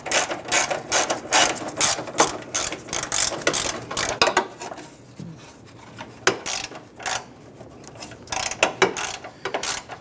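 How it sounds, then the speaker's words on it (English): A ratchet with a 13mm socket and extension clicks rapidly while loosening bolts on a 1997-2006 Jeep Wrangler, loud and close, in repeated bursts with a brief lull midway and no talking. "We use our 13mm socket and extension. Loosen and remove these."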